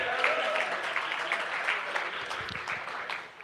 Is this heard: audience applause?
yes